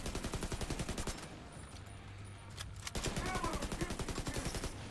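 Rapid automatic gunfire from flame bullets in The Division 2 video game, steady rattling bursts close up, pausing for about two seconds before the firing resumes, with faint talk in the background.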